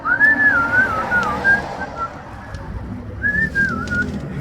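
A man whistles two short wavering melodic phrases, near and clear, separated by a pause of about a second and a half, over low background noise with no talking.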